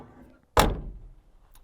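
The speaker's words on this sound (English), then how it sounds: "the door opens and closes solidly" The door of a 1967 Pontiac Tempest hot rod project car swings shut with one solid, close thunk, with a short fading rattle after the impact.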